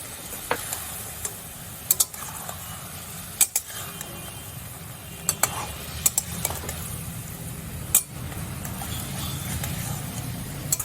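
A spoon stirring ground turmeric into a prawn and vegetable curry in a pan, with soft sizzling and scattered metallic clicks and scrapes against the pan, close and without talking.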